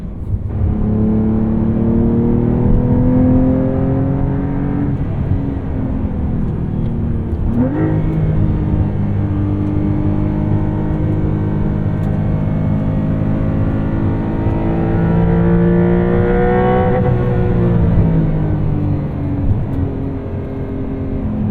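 A 2023 Porsche 911 Carrera T on the move gives off a steady high-pitched whine above its engine note, which rises and falls in pitch as it accelerates and eases off. The sound is close, continuous and loud, with no talking.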